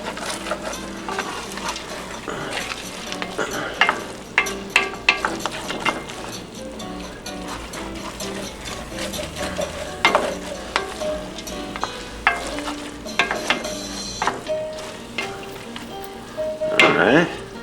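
Frozen peas being stirred into saffron arroz con pollo in a hot pan, a continuous close sizzle broken by repeated scraping and clanking spoon strokes, with a voice speaking over it.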